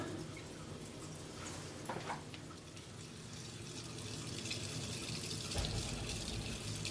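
Water rushes steadily through a house's pipes as they refill, with a continuous, even hiss that swells slightly near the end; no one speaks.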